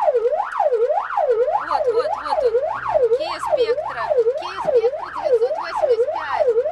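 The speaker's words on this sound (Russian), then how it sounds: "большая красная машина с громким воем сирен выехала на главную дорогу" A loud wailing fire truck siren rising and falling in a steady, fast cycle, with a low engine rumble underneath.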